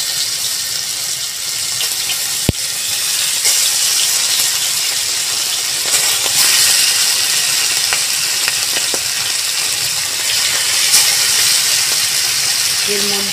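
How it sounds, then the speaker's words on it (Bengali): Whole pomfret fish frying in hot oil in a hot wok, a loud steady sizzle and crackle that runs throughout, with a few sharp clinks and a brief voice near the end. "আমি এবার মাছগুলো ফ্রাই করে নেব। এই দেখুন বন্ধুরা, এইভাবে আমি দিয়ে দেব।"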